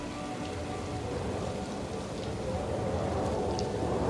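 Steady rain in Planet Coaster 2 patters on a surface, an even, continuous hiss with scattered drops, fairly quiet and without voices.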